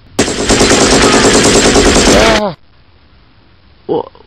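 Rapid continuous machine-gun fire, loud and close, rattling steadily for over two seconds before cutting off abruptly, followed by a brief short burst of shots.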